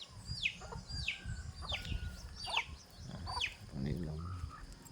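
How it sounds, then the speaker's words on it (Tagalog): Chickens cluck and call repeatedly on a farm in Valencia, Bohol, several short squawking notes close by in an irregular rhythm over low rural background noise. "May mga manok."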